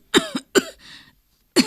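A woman coughing in a smoky room filled from a stoked clay cookstove: two sharp, close coughs, a short rasping breath, then a third cough after a pause.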